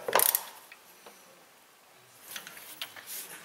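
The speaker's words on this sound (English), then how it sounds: "didn't think this job was going to require 3 ratchets" A ratchet works on a Kia Sedona 3.5 during a spark plug change, giving a brief burst of close metallic clicking at the start, a quiet gap, then more uneven ratcheting near the end. No one speaks.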